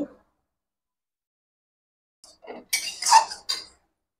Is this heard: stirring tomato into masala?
yes